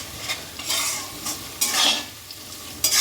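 Masala with ginger garlic paste and green chilli frying in a pan, stirred in short scraping bursts over a soft crackling sizzle, close and without talk.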